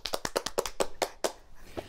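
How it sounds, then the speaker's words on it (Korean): A few people clap at a breakfast table on a Korean dating reality show. Close, crisp claps come in a quick burst of about ten, then slow to a couple of separate claps before stopping. "박수"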